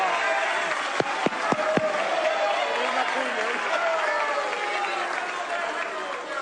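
Applause in the Venezuelan National Assembly chamber during a deputy's speech: dense, sustained clapping from a large crowd, loud and continuous, mixed with murmuring voices and a few sharp knocks early on.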